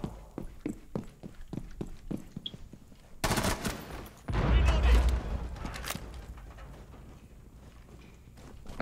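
Gunfire in a shooter video game: a fast run of sharp shots early on, then loud bursts and a heavy blast with rumbling, settling into quieter background sound, with voices talking at points.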